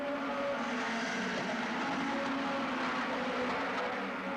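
Hot rod race cars lapping the Northampton oval in 1985, a steady dense engine roar from several cars held throughout at moderate distance, with no voices.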